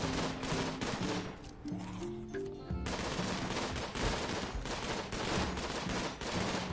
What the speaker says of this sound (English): Beautiful sound of gunfire.